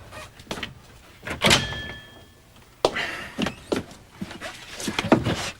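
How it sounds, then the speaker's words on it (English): A heavy, sticking door to a tool room being forced open: a run of dull thunks, scrapes and rattles of uneven loudness, with one sharp creak and a loud bang partway through, all close by. "The tools are in here, but the door sticks a little."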